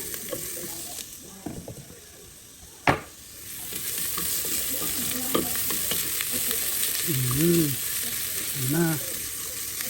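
Garlic and ginger sauté in a pan with a steady close sizzle, one sharp clank of a utensil early on and stirring scrapes, while a voice speaks briefly.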